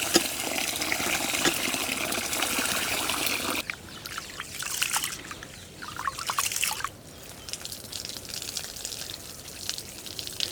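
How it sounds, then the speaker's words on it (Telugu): Rice being washed in water in a kitchen, a steady splashing pour of water followed by swishing and trickling in a pot, with faint bird calls in the background. "ఇప్పుడు దీన్ని శుభ్రంగా కడుక్కొని నానబెట్టుకొని పక్కన పెట్టుకుంటాను"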